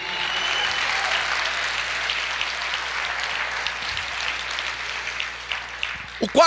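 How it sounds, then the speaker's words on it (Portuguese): A church congregation claps steadily through a sermon, a dense sustained roar of many hands filling the room, easing slightly near the end as a voice returns. "Você pode aplaudir o Senhor"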